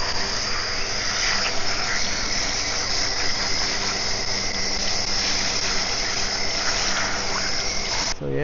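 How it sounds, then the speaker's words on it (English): Steady gushing water spray while freshly caught fish are cleaned on a guided fishing trip, a continuous broadband hiss with a faint motor-like hum beneath, cutting off abruptly near the end. "Spray with some water."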